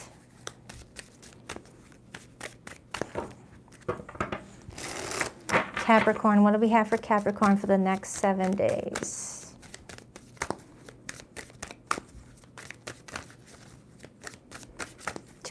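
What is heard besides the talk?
shuffling tarot cards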